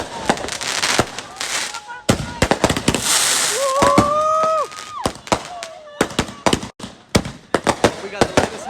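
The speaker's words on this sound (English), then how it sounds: "we have so many fucking fireworks" Fireworks launch and crackle outdoors at a New Year's Eve party, a burst of sharp pops and bangs with a couple of whistling rockets rising, loud and irregular, with people's voices in the background.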